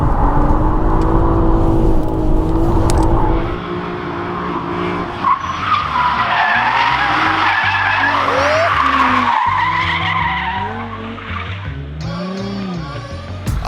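Drift car sliding through a spin, tires skidding and squealing loudly over a roaring, revving engine, with a sharp squeal rising near the end; a voice speaks faintly at times underneath.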